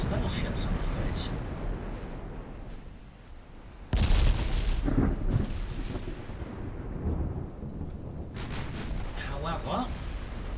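Heavy naval guns in the warship battle game Ultimate Admiral Dreadnoughts thunder in loud booming salvos, one sharp blast standing out, with rolling rumble between shots and a voice talking over the gunfire.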